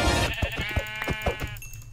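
Sheep bleating in Minecraft, a series of short wavering bleats one after another at moderate loudness, with a brief fuller bleat at the start and no talking.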